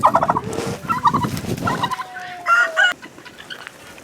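Several turkeys gobble loudly in rapid, rattling bursts, close by and overlapping one another, with the flock's calls tapering into faint clucks.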